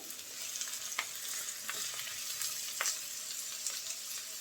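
Mashed country bean mash with shrimp and green chilli fries in a pan, with a continuous close sizzle and a few light scraping stirs of a spatula breaking through it.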